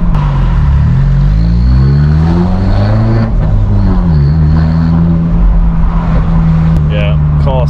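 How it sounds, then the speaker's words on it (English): A car engine revving unevenly with a rough, broken-sounding wavering drone that rises and falls in pitch, loud and close throughout, with a brief higher whine near the end. "Literally sounds like I've got a broken car."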